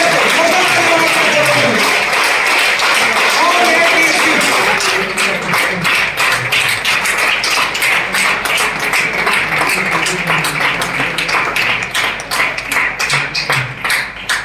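Audience in a hall applauding, a dense sustained clatter of many hands clapping loudly throughout, thinning slightly toward the end.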